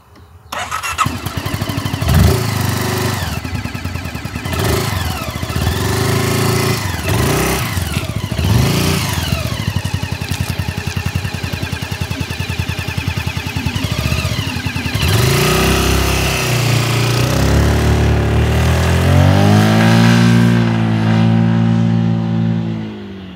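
A Lambretta G350 retro scooter starting and riding off, its engine revving up and down through several loud, close accelerations before settling into a steady cruising drone with shifting pitch.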